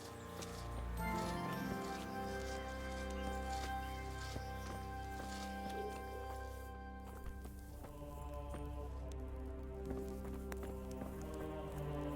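Horse hooves clop in a quick galloping rhythm in the medieval game Kingdom Come: Deliverance, faint and steady under sustained tonal game music.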